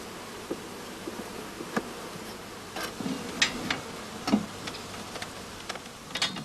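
Honey bees buzzing around a beehive during beekeeping work, a soft, continuous hum of many insects nearby, broken by scattered light ticks and clicks.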